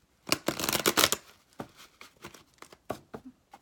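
Quick, crisp riffling bursts of cards being shuffled close by, one long flurry followed by several shorter shuffles.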